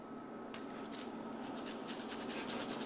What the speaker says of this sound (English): we're going to grate some Parmesan in there as well